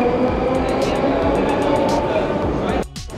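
A Moscow Metro train rumbles loudly through an underground station, continuous roaring with rhythmic wheel clatter, then an abrupt drop near the end; voices mix faintly into the din.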